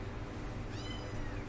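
A kitten meows softly a couple of times, a faint high wavering cry over steady low background noise at a birthday gathering at home.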